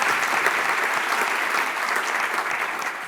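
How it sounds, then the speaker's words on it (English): A breakfast audience at a leadership event claps in a dense, steady round of applause, even and sustained for the whole stretch with no voices rising above it. "Give them a round of applause"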